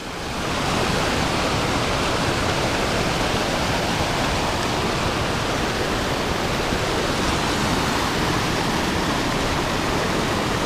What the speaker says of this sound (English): it's really neat how the water just flows right underneath the snowpack.